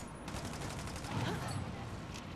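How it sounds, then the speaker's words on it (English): Explosive-round gunfire rattles in the video game Army of Two: The Devil's Cartel, a rapid fusillade of shots with a heavier burst midway, while voices talk over the action. "How you like them explosive rounds"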